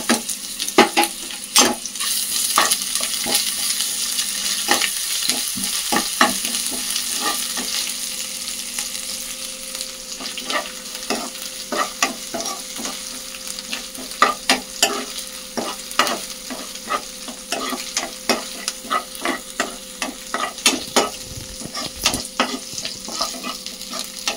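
Onions, green chillies and a little masala fry in a pan for egg fried rice, with a steady close sizzle and repeated scraping stir strokes that grow sharper and more rhythmic toward the end, no voices.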